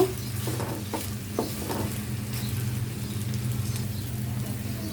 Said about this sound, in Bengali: এবার এই পোলাও চালটা আমি এই তেলের মাঝে খুব ভালো করে ভেজে নেব